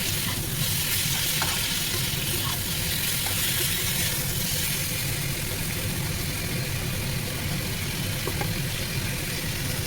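Shrimp and taro stolons fry in a pan with turmeric and salt, a loud, continuous, close sizzle with faint scraping of stirring underneath and no talk.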